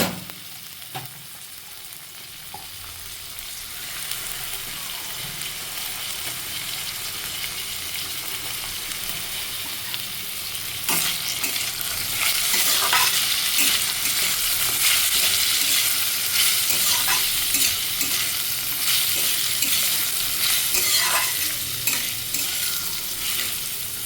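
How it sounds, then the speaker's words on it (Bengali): Green beans frying in hot oil with soaked cashews and raisins added for fried rice, giving a steady loud sizzle under continuous stirring and scraping that grows more intense partway through, with no talking. "বিনসগুলো একটু ভাজা হয়ে গেলে ভিজিয়ে রাখা কাজু আর কিশমিশগুলো দিয়ে দিচ্ছি"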